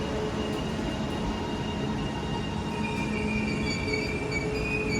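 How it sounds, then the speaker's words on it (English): A train pulls out of Deansgate station in Manchester, its steady rumble rising with wheel squeal and high metallic tones, continuous and fairly close from inside the carriage. "And we are now departing Deansgate, finally."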